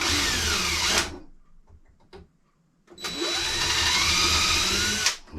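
A power drill bores a pilot hole in wood while a pub-style beer tap tower is being installed, making two loud whining bursts of about a second and two seconds, separated by a short quiet gap with faint clicks.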